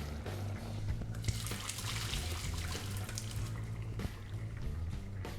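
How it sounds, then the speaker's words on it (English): A cold kitchen tap runs steadily over a colander of cooked turkey meatballs, a continuous close splashing rush of water with no talking. "just going to drain them off and run them under the cold tap so they stop cooking"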